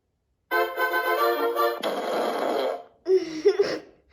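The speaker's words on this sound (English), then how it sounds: "Welcome to Big Fart. Would you like me to fart?" A fart sound effect played by an Alexa Big Fart skill comes through as a loud, drawn-out, buzzy blast with a spluttering tail, followed by a brief burst of reaction.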